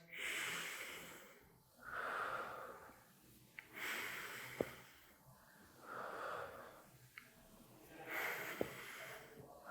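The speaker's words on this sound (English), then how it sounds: "Now going from left to right, slowly breathe in through the nose" Slow breaths drawn in through the nose, four long hissing inhales in a steady rhythm, close and quiet with brief pauses between.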